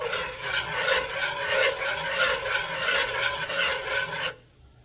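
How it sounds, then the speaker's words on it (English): A whisk scrapes rhythmically around a pan as flour is worked into bacon grease to make a roux, a steady, close swishing rasp that stops abruptly near the end. "And just whisk it around."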